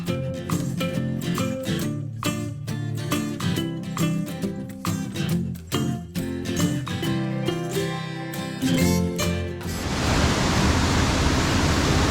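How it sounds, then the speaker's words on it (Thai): Music plays for most of the stretch before it gives way to a loud, steady roaring rush of falling water at the second tier of Krok I Dok waterfall, which continues to the end. "มาถึงน้ำตก ชั้นสอง"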